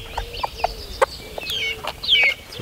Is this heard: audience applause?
no